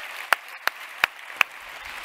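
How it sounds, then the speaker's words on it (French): Four slow, evenly spaced hand claps ring out from a small audience, each sharp and distinct, with a quiet room between them. "On peut l'applaudir."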